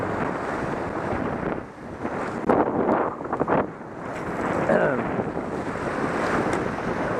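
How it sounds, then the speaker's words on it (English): Waves crash on the shore at a fishing spot, a broad roar of surf mixed with heavy wind buffeting the microphone, rising and falling in strength throughout. "the waves are crashing over there."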